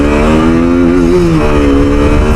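A 2021 KTM RC 125 motorcycle engine struggles to start with a dead battery, giving a loud, close, steady droning whine whose pitch wavers slightly over a couple of seconds.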